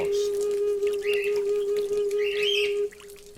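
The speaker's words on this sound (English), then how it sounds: "That's my birds." Pet birds chirp and squawk in short bursts over a steady high electronic hum, fairly close and moderately loud.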